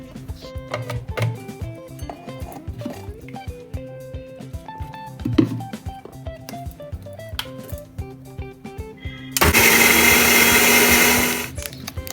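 A kitchen grinder whirs loudly in a sustained burst for a few seconds near the end, grinding ginger, garlic and onion into paste, after a stretch of clinking, shuffling kitchen noises.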